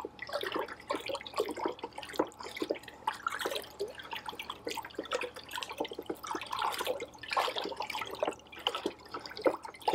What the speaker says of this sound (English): now we're going to stir this up. Get that molasses stirred up into that water with the kelp meal and the fish emulsion